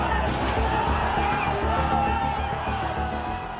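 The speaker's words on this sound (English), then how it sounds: "And the crowd surges towards Parliament." A large crowd of Nepali Gen Z protesters surges towards Parliament after slipping around a police cordon, a dense, loud roar of voices with shouts and whoops carrying steadily throughout.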